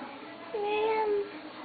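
A child imitates a cat's meow with a single short rising-and-falling vocal cry, soft and close in a quiet room.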